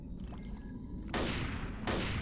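Two loud, sharp bursts of gunfire from Left 4 Dead, a zombie shooter game, crack out in quick succession over a constant low background rumble, with no talking.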